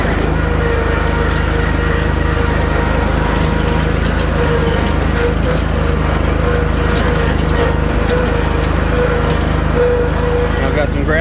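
Snapper Z Rider Pro Cruiser 61-inch commercial-grade zero-turn riding lawn mower, joystick-driven, running steadily at ground speed with a constant loud engine drone throughout, close by.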